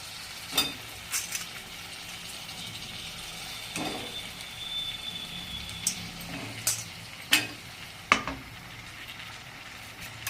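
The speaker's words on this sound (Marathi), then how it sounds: "आता आपण हे बटाटे टाकून देऊ त्याच्यामध्ये." Boiled potatoes tipped into hot fried masala for a potato rassa bhaji sizzle steadily while a spoon stirs them, giving sharp scattered clinks and scrapes against the pan at irregular intervals, close and fairly quiet.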